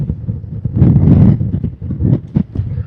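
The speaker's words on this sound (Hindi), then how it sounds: "ठंड बहुत है यहाँ पे, मतलब हवा है तो बहुत ज़्यादा ठंडी हवा चल रही है" Cold mountain wind buffets the microphone in loud, low gusty rumbles that surge and drop irregularly throughout.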